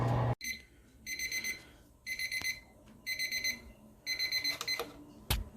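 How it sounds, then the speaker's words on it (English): An oven timer goes off, ringing in several short bursts of rapid beeps with brief pauses between them, loud and close, with no talking over it. "our timer went off"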